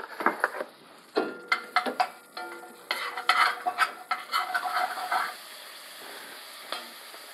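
Onion sautéing in butter with sprigs of thyme in a pan, a steady close sizzle broken by a quick run of clicks and scrapes from stirring, tapering off toward the end, no talking.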